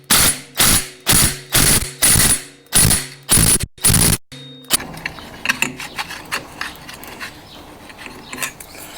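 A socket ratchet works on the clutch of a Kawasaki ZZR250 motorcycle, giving about eight loud, rhythmic ratcheting strokes close up, then softer clicks and rattling metal handling.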